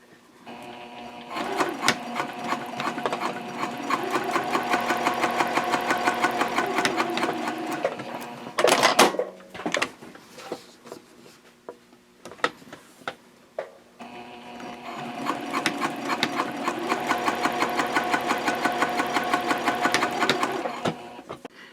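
A sewing machine top stitches with a 3.0 stitch length an eighth of an inch from the edge of a Hannah Sling bag, running in two long, steady, close bursts with a brief handling pause between them, no voices.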